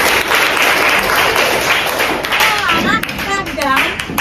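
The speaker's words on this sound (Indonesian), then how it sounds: "Oke, beri tepuk tangan untuk Alisa." A class of students claps for a classmate named Alisa after her project, steady broadband clapping throughout with some voices talking over it near the end.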